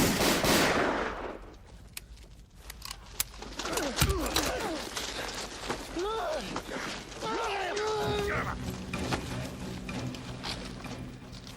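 Blank rounds go off in a tense film standoff, with a scatter of sharp, loud gunshot cracks spread across the scene. Shouted dialogue and strained voices run between and under the shots.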